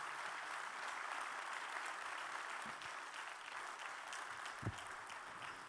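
Audience applause at a French business conference session, a steady wash of clapping from a large crowd, sustained and fairly distant, with no talk over it.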